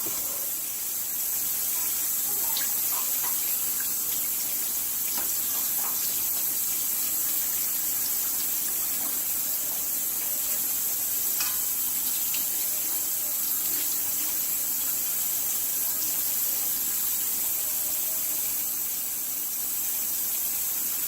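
Tap water runs steadily from a faucet while furry comfrey leaves are washed, a constant hiss of water with faint splashing and handling sounds.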